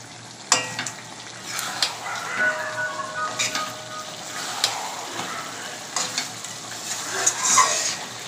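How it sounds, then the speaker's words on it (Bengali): Chicken being stirred and fried in a pan with cumin and coriander powder, steady sizzling broken by scraping spoon strokes and clinks, close and fairly loud with no talk. "এবার 1 চামচ জিরের গুঁড়ো আর 1 চামচ ধনের গুঁড়ো দেবো। দিয়ে আবার খানিকক্ষণ ধরে কষাতে হবে।"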